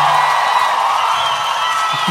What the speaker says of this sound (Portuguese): Você conseguiu ouvir os aplausos?